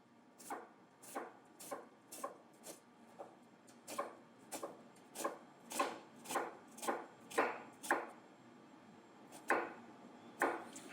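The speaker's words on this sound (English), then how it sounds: "I have 18 cuts this way in this onion" A knife chops through an onion on a cutting board in a steady run of crisp, close, evenly spaced cuts, about eighteen sharp knocks with short gaps, and no talking over them.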